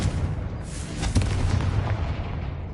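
A Confringo fire spell from Hogwarts Legacy goes off, a short deep boom with a rumbling blast and a sharp crack near the middle, fading into a low roar.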